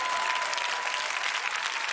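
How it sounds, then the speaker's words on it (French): Studio audience applauding on a French TV music show, steady dense clapping filling the whole moment at close range with no talk over it. "Merci d'applaudir."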